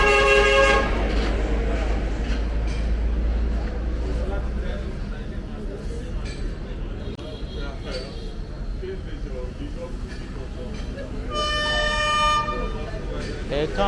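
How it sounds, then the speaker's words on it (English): A passenger train approaches and sounds its horn, with a short blast at the start and a longer blast near the end, over steady rumble and crowd noise at a rail line on the Lagos to Ibadan route. "Here comes the train"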